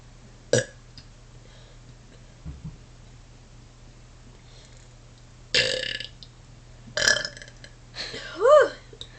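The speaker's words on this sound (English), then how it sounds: "I'm going to be burping." A girl burps in a series of separate belches, a short one early, then louder, longer burps bunched toward the end, with quiet pauses between them.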